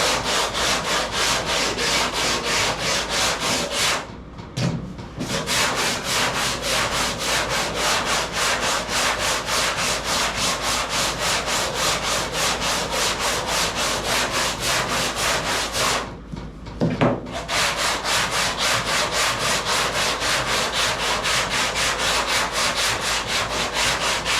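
Steady back-and-forth rasp of sandpaper on a wooden hood, fast and rhythmic, close up, pausing briefly twice before resuming, in a cold indoor workshop.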